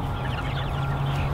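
Freedom Ranger chickens and a rooster clucking inside a large coop housing hundreds of birds, a close, continuous chorus of low clucks and murmurs without speech.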